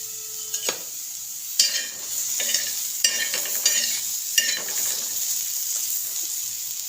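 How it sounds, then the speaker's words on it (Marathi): Onions roast in a pan, a spatula scraping and clacking in irregular strokes against the metal over a constant sizzle, close and fairly loud, with no talk. "कांदे मस्त लाल होईपर्यंत भाजणार आहोत"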